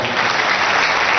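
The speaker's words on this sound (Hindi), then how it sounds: "जबरदस्त ताली होना चाहिए दोस्तों" An audience at a business seminar in Nagpur claps loudly and continuously in a dense, close burst of applause.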